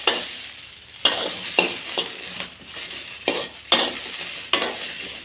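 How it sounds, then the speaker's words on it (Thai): Vegetables being stir-fried in a pan until cooked, a rhythmic series of spatula scrapes roughly every half second over a continuous sizzle, close and without any talking. "เดี๋ยวผัดไอ้พวกนี้ให้สุกก่อน"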